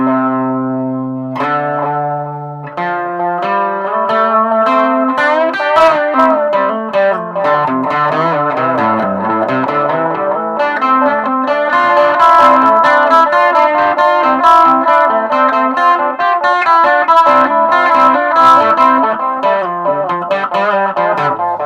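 An electric guitar played through the tape-style echo effect of a Line 6 Micro Spider amp, with distorted, repeating notes and runs trailing off in echoes, loud and continuous with no talking.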